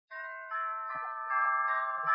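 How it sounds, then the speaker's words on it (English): A doorbell sound effect from a golden-age radio comedy, a clear sustained electric chime tone that starts abruptly, holds, then swells slightly louder, close and alone. "Where's the doorbell?"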